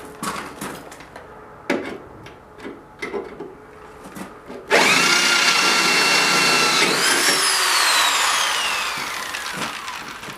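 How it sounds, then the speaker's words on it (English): Power drill boring two holes through the frame of a homemade pull-behind camper: a steady, loud whine starts partway in and holds for several seconds, rising and falling in pitch, after scattered light knocks and handling sounds. "drill the 2 holes that I already had drilled"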